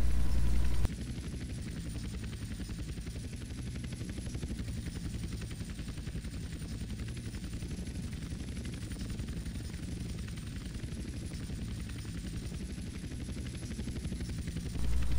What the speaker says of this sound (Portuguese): Ele não é tão rápido, porque o helicóptero até é grande.